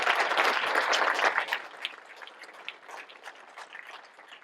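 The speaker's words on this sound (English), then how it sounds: "Would you please give them a massive round of applause?" Audience applause for a board at an awards reception, a dense burst of many hands clapping that starts loud and gradually thins and fades, with no voices over it.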